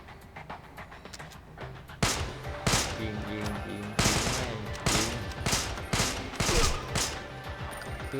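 Rapid bursts of gunfire from the online shooter game Devil's Third Online, loud and dense, with volleys of shots repeating in quick succession and a sharp surge of firing around the middle.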